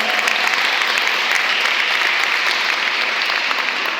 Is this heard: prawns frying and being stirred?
no